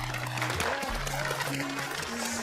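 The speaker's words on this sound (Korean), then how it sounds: "박수 한번 보내드릴게요" Studio audience applause on a Korean TV makeover show, a steady broadband patter of clapping running throughout with a low musical tone underneath.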